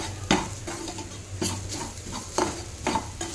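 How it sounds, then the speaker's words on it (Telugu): Carrots frying in a pan with gram flour and ground cumin and fenugreek, a soft steady sizzle broken by roughly five sharp scraping strokes of a spoon stirring against the pan. "వేసేసుకొని ఇంకా కొంచెం సేపు ఫ్రై చేయాలి"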